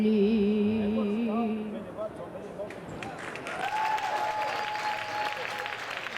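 Applause from an audience at the Carnaval de Québec giant cake event starts under a fading sung note, then swells into a steady patter of clapping with a voice speaking over it.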